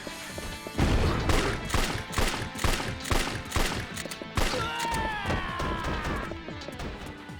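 Grenade launcher blasts in Yakuza 3, a rapid series of loud, punchy explosive booms and crashes over a busy game mix, followed by a brighter tonal sweep near the end.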